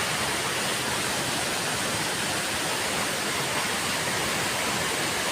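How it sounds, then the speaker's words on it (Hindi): A famous waterfall spills with flowing water, producing a loud, unbroken broadband rush that holds steady throughout with no voices. "ये जलप्रपात केंद्र का बहुत सबसे अच्छा फेमस जगह है।"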